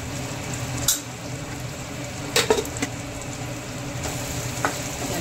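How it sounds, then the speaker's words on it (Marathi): Onion masala with turmeric, garam masala, cumin powder and red chilli powder sizzles in hot oil for a cauliflower-potato curry, a constant crackle broken by a few clear stirring scrapes. "याला मस्त तेलामध्ये होऊ द्यायचं"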